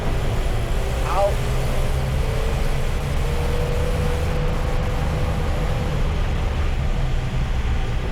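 Land Rover Series 2A on the move, a steady loud engine and road rumble filling the whole stretch with a faint rising whine early on, no talk over it.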